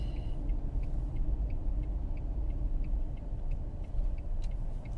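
A car driving along a village road, heard from inside as a steady low engine and tyre rumble that persists throughout, with faint light ticking on top and no talking.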